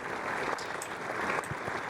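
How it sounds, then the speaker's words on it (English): Applause in a video game, a steady wash of clapping that keeps going without a break for the whole short stretch. "The applause never stops."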